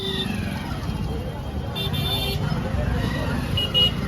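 Vehicle horns sound in busy Ayodhya street traffic: a couple of short tonal toots rise above a steady, dense rumble of engines and road noise, with a brief louder blast near the end.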